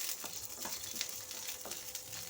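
Four slit green chillies fry with black cumin seeds in hot oil, giving a steady close sizzle with faint crackling pops throughout.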